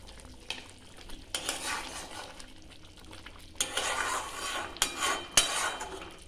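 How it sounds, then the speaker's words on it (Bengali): Chicken is stirred with a splash of water in a pan while cooking green hariyali chicken. A spoon scrapes and clinks against the metal in uneven bursts over a low bubbling sizzle. "জল দিয়ে একটু কষাচ্ছি।"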